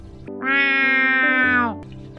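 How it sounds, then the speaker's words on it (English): One sustained, clear cat meow in a Minecraft animation, rising in and holding for just over a second before falling away, loud and close over a quiet background. "This is a normal cat."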